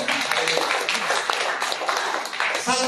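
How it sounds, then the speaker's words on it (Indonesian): A church congregation claps together, a brief burst of dense, fairly quiet applause with a few voices mixed in, continuing evenly for the short span. "Tepuk tangan buat mereka"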